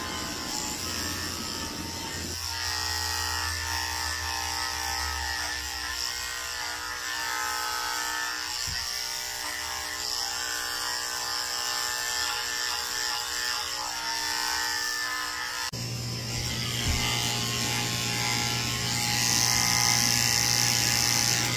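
Electric dog grooming clippers fitted with a 7 blade shave a Pomeranian mix's head, giving a steady close buzz with a deeper motor hum through the middle and a brief pause before it resumes.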